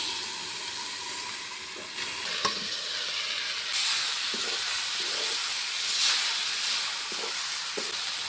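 A tempering of mustard oil, dried red chili and crushed garlic hits drumstick greens in a wok, giving a loud, hissing sizzle that swells in steamy bursts, with occasional clinks from stirring.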